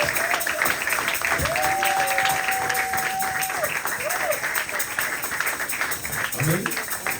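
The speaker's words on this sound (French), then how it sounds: "Lèvons-nous et nous allons acclamer la parole de Dieu" A church congregation applauding at a Sunday service, sustained clapping throughout with a voice speaking over it.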